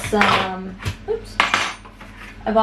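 Metal fluted cookie cutters clink and clatter as they are picked up and sorted for cutting biscuit dough, a series of bright, close metallic taps and rattles with short pauses between.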